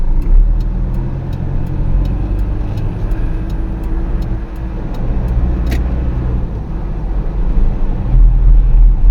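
Morning road traffic in the Philippines rumbles on steadily with passing engines and tire noise, joined by a faint regular ticking and a brief higher clatter partway through.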